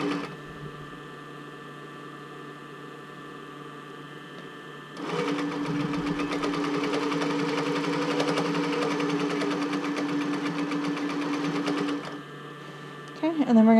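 A domestic sewing machine runs steadily for about seven seconds, stitching one side of a Charlotte bra made of shiny fabric, with quieter room hum before and after and a brief rattle at the end.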